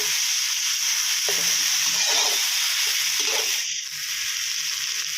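Vegetables sizzle and hiss steadily in a hot pan as they are stir-fried for dry chicken suki, cooked without broth, with a continuous close frying crackle and occasional stirring scrapes.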